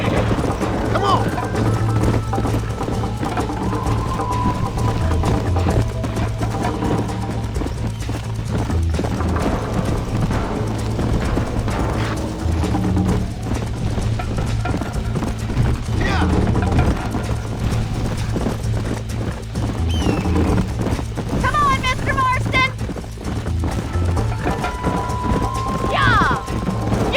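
Galloping horse hooves in Red Dead Redemption, a steady clip-clop rhythm running throughout with occasional whinnies, under game music and spoken dialogue.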